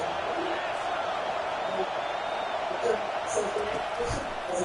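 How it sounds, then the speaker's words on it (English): Stadium crowd noise from the College Football 25 video game, a steady loud roar of cheering fans filling the whole stretch, with commentary voices talking over it. "this crowd is tearing the lid off this place"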